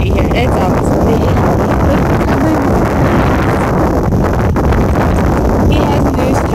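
Strong wind buffets the microphone steadily and loudly throughout, a dense roar outdoors in rural Nebraska.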